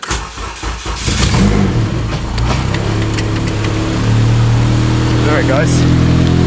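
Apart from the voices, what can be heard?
Honda Civic with K20 engine revving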